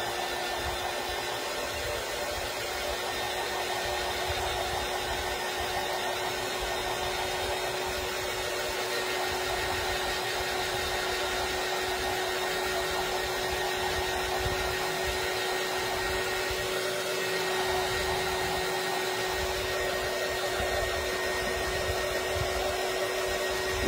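A hair dryer blowing on a freshly painted bottle, a loud, continuous whooshing drone with a steady hum that holds unchanged throughout.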